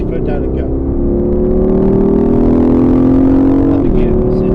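Aston Martin Vantage accelerating hard on the Silverstone circuit, engine pitch climbing steadily through a gear before a shift, loud and close from inside the cabin, with an instructor's voice heard over it.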